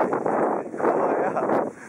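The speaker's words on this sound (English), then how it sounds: "I really can feel the wind." Wind buffets the microphone while skiing at Sierra-at-Tahoe, a continuous loud rushing roar that swells and dips over two seconds.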